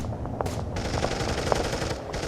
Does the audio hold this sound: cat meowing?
no